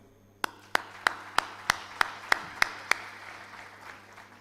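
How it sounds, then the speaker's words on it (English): Audience at a university HR event applauding teachers and faculty: a run of nine sharp, evenly spaced claps about a third of a second apart over a low room murmur, like a crowd clapping in unison. "take a moment to applaud all the teachers, your faculties, and gurus who are here"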